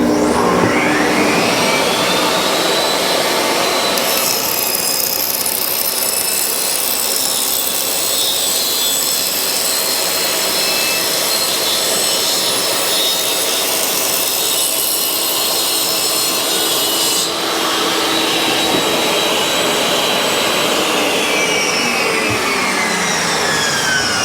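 A power saw rips through a board to trim off its factory edge during a miter station drawer build, a loud, continuous whining cut lasting over twenty seconds with the pitch shifting as the blade enters and exits the wood.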